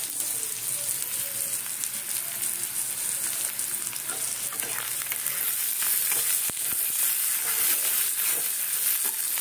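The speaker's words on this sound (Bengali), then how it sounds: "আলুটা দিয়ে একটু ভাজা ভাজা হয়ে যাবে" Cubed potatoes frying in a hot pan for an elephant-foot yam curry, a steady close hiss of sizzling oil throughout, with occasional faint scrapes of stirring and no talking.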